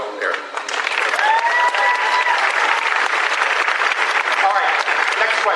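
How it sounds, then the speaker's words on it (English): A live audience claps and cheers loudly and continuously, a dense wash of applause with whoops rising over it, steady throughout. "with the cheering, it ends"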